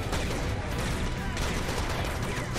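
Dense, continuous gunfire from the Serious Sam Siberian Mayhem video game, a loud unbroken barrage of rapid shots and blasts that fills the whole stretch with no pauses.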